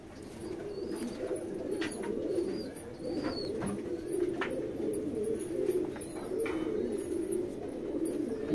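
Full white-eyed Saharanpuri pigeons coo softly and continuously in a close group, low rolling calls repeating over a faint background with occasional light rustles.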